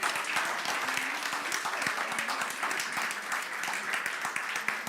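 Congregation applauding during a Spanish-language church service, a steady, dense wash of clapping from a crowd that holds evenly for several seconds without any talk.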